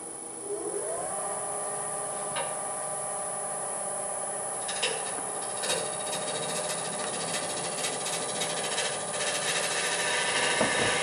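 Wood being sanded on a lathe while a turned wooden salt shaker spins, a steady continuous whirring rasp, close and fairly even, with brief scraping accents.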